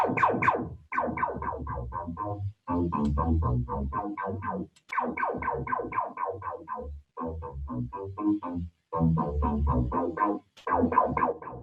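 Choppy, rhythmic synthesizer notes with an LFO modulating the filter resonance, giving a shifting, resonant tone, played in quick bursts separated by brief gaps.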